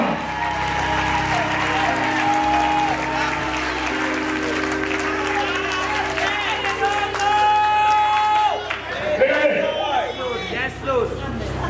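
Church congregation in Queens Village, New York applauding and cheering loudly and continuously, dense clapping and crowd noise with music and voices sounding underneath throughout.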